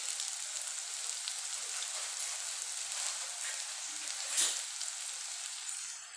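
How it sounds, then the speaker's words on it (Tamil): Chopped onions and curry leaves sautéing in hot oil in a home kitchen, a steady close sizzle with faint crackles and a brief stir near the end, no voices. "நறுக்கிட்டு நல்லா கருவேப்பிலை போட்டு நல்லா வதக்கணும்."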